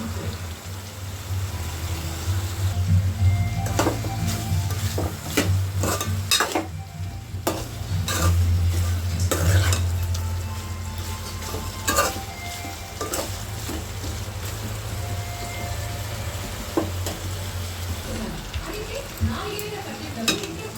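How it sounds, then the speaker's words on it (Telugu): Spicy chicken sizzles in an uncovered pan as a spoon stirs and scrapes it, the steady frying broken by sharp clatters of utensil on metal, close and loud throughout. "ఇలా మూత పెట్టకుండా ఒక పది నిమిషాలు బాగా ఫ్రై చేసుకోవాలి"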